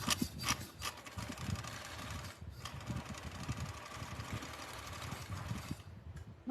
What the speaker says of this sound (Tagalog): Mabagal yung aking makina.